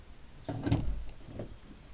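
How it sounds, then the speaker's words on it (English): Door handle being worked on a 1972 Chevy car door, a short mechanical clunk and rattle of the latch followed by a fainter second click, close and moderately quiet. "Now the door handle."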